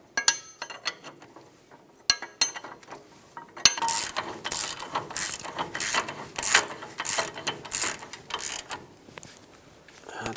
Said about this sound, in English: Drive the top one in a little bit until you can get a ratchet on here so we can bottom them out